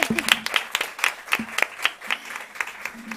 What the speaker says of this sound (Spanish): vamos a darles un aplauso a estos pequeños que han venido hoy